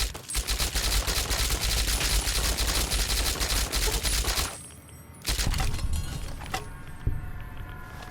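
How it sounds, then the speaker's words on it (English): Holdout gun fired in Fallout New Vegas, rapid continuous shots in a loud, dense stream, a short pause, then further firing and clatter resuming until the end. "This is my holdout gun"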